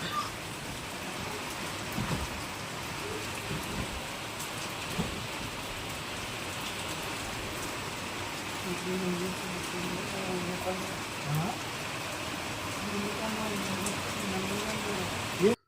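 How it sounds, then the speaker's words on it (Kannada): Steady heavy rain pours down continuously, a dense hiss of drops with faint distant rumbles, and quiet voices now and then underneath. "ಜೋರು ಮಳೆ ಪ್ರಾರಂಭ ಆಯಿತು"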